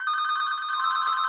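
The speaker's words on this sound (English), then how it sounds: "excuse the phone" A telephone rings with a bright, sustained electronic trill, steady and fairly loud throughout, with no voices over it.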